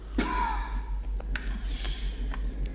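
Heavy, desperate breathing from the eerie Minecraft music disc 11: a sharp gasp near the start, then ragged breaths with faint whistling tones, close and fairly soft, no talking.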